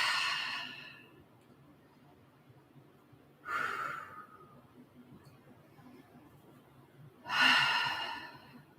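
Breathing during a yoga core pose, with three distinct breath sounds: a long exhale at the start, then two more at roughly four-second intervals, the last one the strongest. Each stands alone against quiet room tone.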